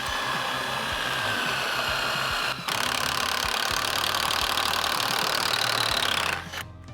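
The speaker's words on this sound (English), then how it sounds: "Our screw, our 3-inch screw just goes right in there and ties in our next piece" A power drill drives a 3-inch screw into wood shelving, a steady loud whirring buzz running about six seconds with a brief dip partway, then cutting off abruptly near the end.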